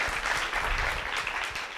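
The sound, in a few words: audience applause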